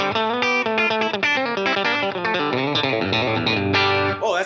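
Clean electric guitar run through an Origin Effects Cali76 Compact Deluxe compressor switched on, a steady stream of even, sustained picked notes and chords with smooth, level dynamics, close and alone.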